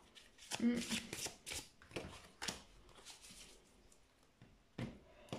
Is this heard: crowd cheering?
no